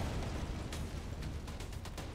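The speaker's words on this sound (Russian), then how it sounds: "Взрыв машины." Car blowing up in the XCOM: Enemy Within strategy game, a dense broadband rumble with several sharp bursts and crackling debris pops layered over a steady low roar, no voices.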